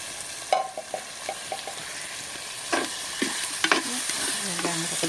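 Green chilies and tomato sautéing in a pan, with steady sizzling and a scraping spatula stirring in bursts throughout, close and clear.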